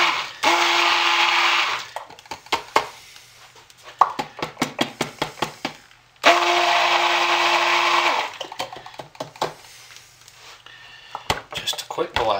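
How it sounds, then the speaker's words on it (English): A stick blender whirs through mint dish soap in two loud bursts, broken by sharp knocks and clinks of stirring against the container, with talk between the bursts. "Now let's go ahead and stick blend just a little"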